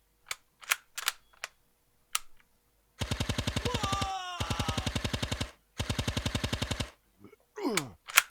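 Rapid bursts of automatic gunfire in a dramatized shootout, with a few scattered single shots first, then three sustained volleys loud and close, ending in a sweeping whoosh; no talking.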